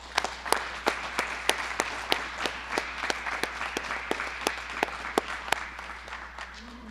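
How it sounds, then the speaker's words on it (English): A small audience claps at a telecommunicator academy graduation ceremony. The sharp claps come in a steady, even rhythm, several per second, at a moderate level with no cheering, and they ease off slightly near the end. "please join me in giving all of our Academy graduates a round of applause"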